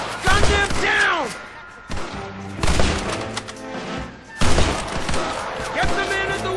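Rapid bursts of gunfire in a Blackwater shootout from Red Dead Redemption, loud overlapping shots and impacts in clusters, with shouting voices between them.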